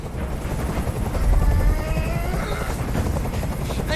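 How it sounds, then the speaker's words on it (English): Helicopter hovering overhead in the video game Detroit: Become Human, a loud continuous rotor thump and engine roar filling the scene, close and unbroken, with no speech. "I can't stand that noise anymore. Tell that helicopter to get out of here."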